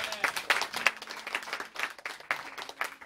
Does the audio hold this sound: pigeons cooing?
no